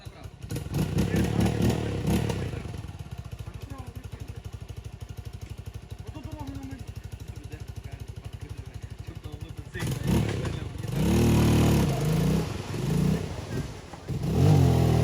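A motorcycle engine runs with a steady droning idle, then louder surges as it revs up, while people talk nearby over the engine noise.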